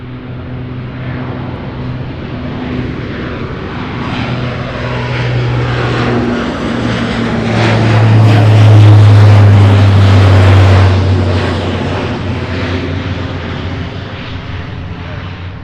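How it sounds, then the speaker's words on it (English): A Lockheed C-130 propeller aircraft taxis at an airport, its loud droning engines and propeller hum swelling as it passes close, then easing off, with a voice talking over it. "I see the C-130. Look at that. Didn't even see this one taxiing over."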